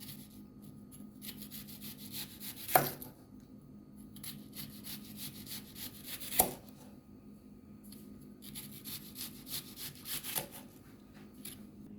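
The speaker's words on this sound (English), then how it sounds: "Thinly slice your onion as well." A knife thinly slices an onion for Jamaican escovitch fish, giving a steady run of soft, close cutting and rubbing strokes with three sharper chops against the board. No one speaks.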